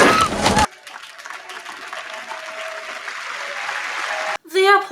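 Applause from a crowd in a movie theater scene, a continuous wash of clapping and murmur that follows an abrupt cut from louder sound, holding steady before a sharp break and a burst of other sound at the end.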